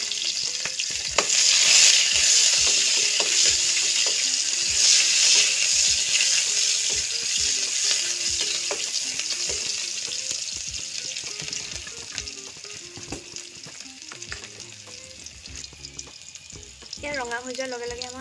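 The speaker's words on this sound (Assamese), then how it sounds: "এয়া কেৰাহী গৰম হোৱাৰ লগে লগে মই পাঁচফোৰণ কেইটামান দি দিছোঁ আৰু লগতে এয়া পিঁয়াজখিনিও দি দিম।" Chopped onions and panch phoron fry in hot oil in a wok for pav bhaji, giving a loud, steady sizzle with occasional stirring scrapes over faint background music.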